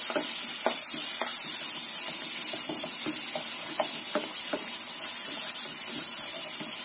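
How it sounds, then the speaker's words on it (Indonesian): Ground spice paste sautés in oil in a pan, a dense, steady sizzle with repeated scraping stirs and soft taps spread evenly throughout. "Kita masukkan bumbu yang sudah kita haluskan tadi. Tumis bumbunya sampai matang ya, biar enak."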